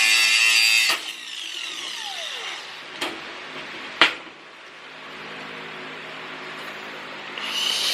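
Power tool cutting through a car muffler in a garage, a few sharp loud bursts and clanks, then a quieter steady whir that swells again at the end, no talk.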